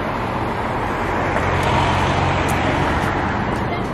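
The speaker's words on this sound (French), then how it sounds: "Vous voyez les voitures qui passent" Cars pass by in city traffic, a loud, steady roadway rumble with engines and tyres blending into a continuous wash of noise.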